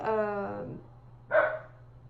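A dog lets out one short, sharp bark indoors, following a brief held vocal sound, with a steady low hum running underneath.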